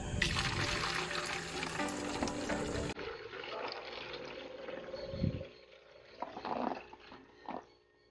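Tap water poured into a brine shrimp hatchery, a steady splashing pour that stops partway through, followed by quieter trickles and drips.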